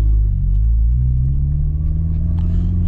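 Car with a stage 5 clutch idling and rumbling steadily as it is put into gear, a loud, close low drone with no talk over it.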